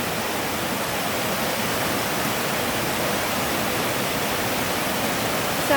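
The Mui Wo waterfalls in Hong Kong pour with a loud, steady, broadband rush, close and continuous, with no voices over it.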